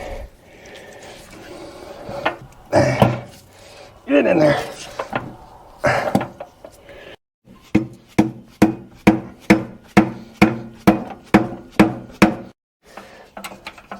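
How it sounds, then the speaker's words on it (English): A part is tapped into a Caterpillar D4 bulldozer transmission with a steady series of about a dozen evenly spaced, ringing metallic knocks close by, following someone talking and some clunking handling of parts. "Okay, I got it tapped in enough here to get the bolt started."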